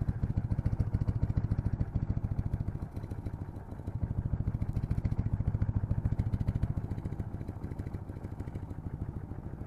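A snow-covered vehicle engine runs after starting, a close, steady rhythmic low chugging idle with a brief dip in level partway through before settling back, no talk heard.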